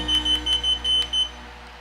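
A 5-in-1 Unoisetion cavitation vacuum RF beauty machine gives a series of six short, high electronic beeps in quick succession, close and clear over a low steady hum, with no voices.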